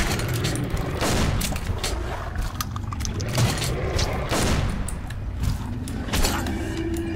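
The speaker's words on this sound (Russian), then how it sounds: "Да я уже кучу патронов выстрелил." Rapid bursts of gunfire in the video game Metro: Last Light crackle and boom repeatedly, loud and continuous, with mechanical clatter between volleys.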